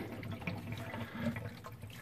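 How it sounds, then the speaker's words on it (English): Water drains from the opened valves of a Navien tankless water heater during descaling maintenance, a steady, close rushing flow with low gurgling that runs continuously for the whole stretch with no talking. "open these valves"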